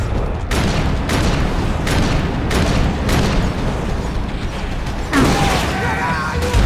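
Gunfire in the video game Max Payne 3, a run of sharp, loud shots in an irregular rhythm with crashing impacts, mixed with someone talking excitedly.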